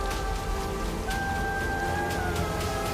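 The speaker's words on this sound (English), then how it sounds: "The silence of drought was broken by the sound of rain." Heavy rain falls after a long drought in a biblical film scene set near Mount Carmel, a steady broadband hiss of rainfall running throughout with sustained musical tones layered beneath.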